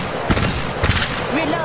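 Gunfire in Apex Legends Mobile, a couple of sharp, close bursts of shots in a short busy stretch of game action, loud against a steady background din.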